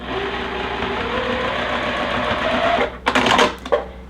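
A sewing machine stitches a quilt block seam for a star block, a steady close motor whir with rapid needle chatter, ending in a few louder clunks and thread sounds.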